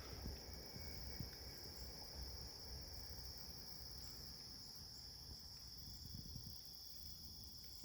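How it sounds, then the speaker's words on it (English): Bugs chirp outdoors at night in a continuous, faint, high-pitched drone of steady trills, with soft low rustling underneath and no voices. "I don't know if you hear the bugs"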